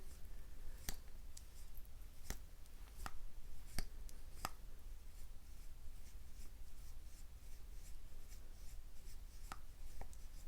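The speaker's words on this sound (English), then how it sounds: "Can you hear that almost scraping sound?" Gritty, resistant scraping of a slip joint knife blade being slowly opened, faint close-up rasping broken by several sharp clicks, with no talk over it.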